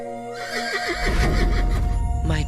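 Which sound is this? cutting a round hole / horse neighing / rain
horse neighing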